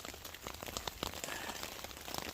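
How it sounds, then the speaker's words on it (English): Freezing rain pattering on a hammock tarp during a winter storm while snow camping, a faint, steady wash of dense drops with scattered louder taps, no voices. "still raining. Tarp's doing good."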